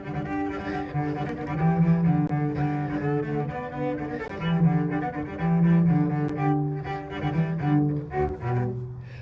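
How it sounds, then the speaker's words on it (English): A viola plays a steady melodic line of sustained bowed notes, moderately loud and close, with no voices. "So viola is going to sound something like this."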